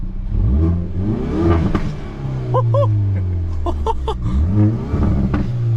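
A 2011 Subaru WRX engine revs up toward about 4,000 rpm and drops back, rising and falling in loud repeated sweeps, while people talk and laugh close by over it.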